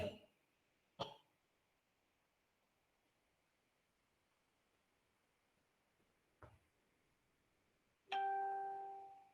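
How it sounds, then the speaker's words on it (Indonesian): A telephone rings during a university urban design lecture, giving a few short tonal rings, with the clearest near the end, heard mostly alone in a quiet room. "Bentar, ada telepon."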